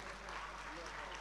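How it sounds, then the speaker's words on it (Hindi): A brief stretch of continuous crowd clapping at a Gujarat state service committee gathering, steady and fairly loud, with a voice faintly mixed in. "जोरदार तालियां"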